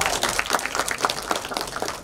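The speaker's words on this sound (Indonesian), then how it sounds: "Tepuk tangan untuk semuanya." A crowd at a book launch applauds, many hands clapping in a lively, even wash of claps for the full stretch with no talking over it.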